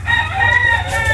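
Backyard chickens clucking and crowing nearby, with a rooster's sustained crow sounding loud and close over a low steady hum.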